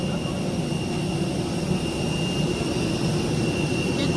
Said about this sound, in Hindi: फिर नीचे का कितनी तेज आवाज आ रही है ना इसकी इंजन जब